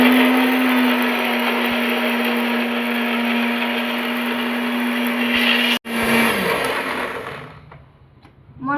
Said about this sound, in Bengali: মশলাটা আমার বাটা হয়ে গেছে।